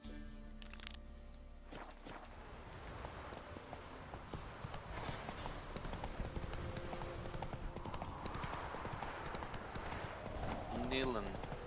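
Horse hooves clip-clop steadily as the horse moves through The Witcher 3: Wild Hunt. The hoofbeats are continuous and moderately close, set against a constant game ambience.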